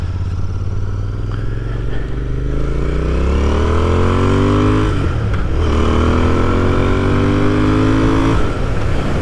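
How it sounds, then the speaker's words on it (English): A 2021 Royal Enfield Continental GT motorcycle fitted with an AEW baffled exhaust, recorded while riding: a loud, steady engine growl that rises in pitch through two acceleration pulls, with a brief dip and gear change between them. "Hopefully get some growl there. This exhaust is just about perfect."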